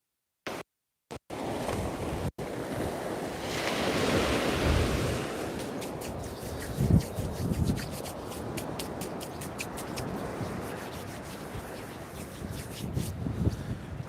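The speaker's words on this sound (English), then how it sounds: "Oh, that wind's getting worse." Steady ocean surf and gusting wind at Walcott Beach at night, a broad continuous roar with wind buffeting the microphone, a few brief bumps at the start and no talk over it.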